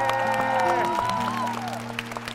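Guests at a Korean wedding ceremony applaud a singer. The clapping is soft and scattered under prominent sustained musical tones and fades as the music continues.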